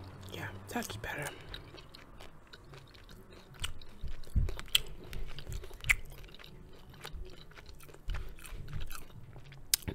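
Granola clusters and pumpkin seeds crunch close to a microphone in irregular bites and chews, crisp cracking bursts with soft mouth sounds between them.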